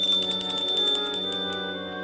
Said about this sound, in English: As the door opened, she could hear a small bell jingle.